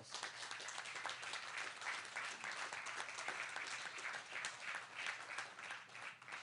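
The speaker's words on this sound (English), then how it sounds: "You ought to give yourself an incredible round of applause." An audience at a North Central West Virginia Airport event gives a sustained round of applause, dense clapping continuing steadily for several seconds.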